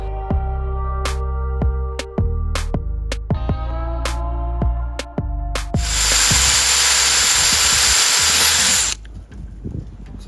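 A power drill boring into wooden corner post blanks for a custom deck, with a series of short whirring bursts that spin up and down, then one loud continuous grinding drill run lasting about three seconds before stopping.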